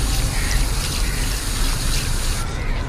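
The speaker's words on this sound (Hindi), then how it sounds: "ये ऊपर से मैंने पानी दिया" Water is poured from above onto a potted Silver Dusty Miller plant, making a steady gushing splash that runs for nearly three seconds and then cuts off, with no talking.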